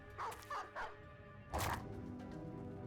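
Dog barking in the fantasy tactics video game Battle Brothers: three short, sharp barks in quick succession followed by a louder bark, set against a steady game background hum.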